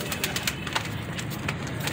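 A star pigeon, a female kept in a pigeon-keeping loft, coos softly and repeatedly at close range. The low murmuring calls sit over a steady background hiss.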